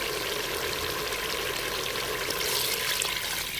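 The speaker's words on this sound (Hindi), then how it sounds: "और मैं इसके अंदर पानी डाल देती हूँ।" Water pours steadily into a pressure cooker pot of beef daleem, a continuous close, bright splashing rush that holds for several seconds on its own.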